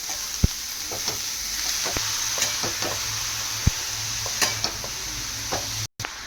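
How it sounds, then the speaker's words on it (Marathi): Finely chopped spinach frying in a pan, a steady close hiss of sizzling with scattered spoon taps and scrapes as it is stirred. "बारीक चिरलेला पालक याच्यामध्ये टाकून घ्यायचा आणि चांगला हलवून घ्यायचा"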